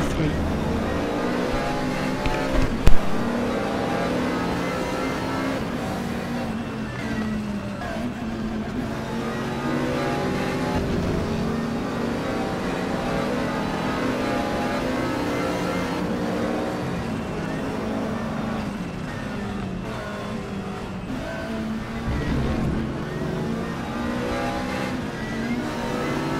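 McLaren 650S GT3 race car engine in RaceRoom during a GT3 race at Spa-Francorchamps, a continuous loud engine roar with rising and falling revs under ongoing commentary talk.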